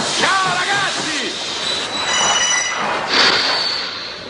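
Railway train running on the tracks, its wheels squealing in high, drawn-out tones over a steady rolling rumble, fairly loud and continuous throughout.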